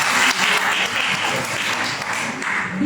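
Audience at a municipal innovation workshop for women mayors applauding a speaker, dense sustained clapping from a roomful of people, loud and steady throughout.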